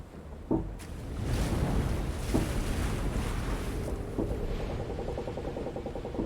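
Rolling ocean waves and wind wash steadily around a boat at sea in the puzzle game The Room Two, with a few creaks and knocks and a faint rhythmic clatter near the end, no voices.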